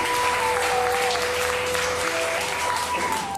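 A crowd at a training session applauds loudly and steadily, the dense clapping sustained throughout with a faint tone running beneath it.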